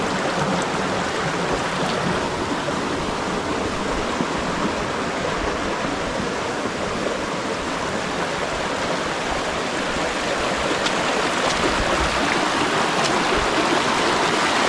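Water from a spring beside a field where a coconut palm has toppled, heard as a dense, constant rush of flowing water, loud and close, with no talking.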